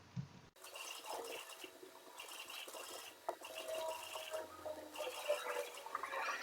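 Water is poured to fill a space in Minecraft, a soft continuous flowing and splashing from the game that repeats in short bursts after a brief click at the start.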